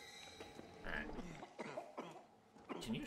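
A person coughs several times in a row, in short harsh bursts with gaps between them, fairly faint and picked up in a quiet room with some low talk.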